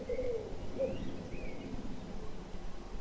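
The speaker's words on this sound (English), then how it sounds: "Very noisy pigeon." A pigeon cooing on a roof, several low soft coos in short phrases, fairly close and clear over a quiet outdoor background with faint distant chirps.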